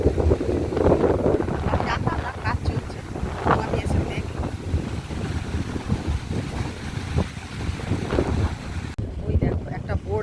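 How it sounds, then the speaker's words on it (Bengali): Steady wind and rushing river water at a riverbank, busy with boat traffic, make a continuous broadband roar with microphone wind buffeting throughout; no clear speech stands out. "নদীর এই যে শো শো আওয়াজটা এটাও কিন্তু খুব সুন্দর লাগছে"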